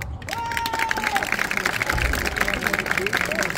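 Audience at an outdoor village quiz event in Mûr-de-Bretagne claps and cheers for answer A, a steady wash of applause mixed with crowd babble and a brief whistle-like tone near the start.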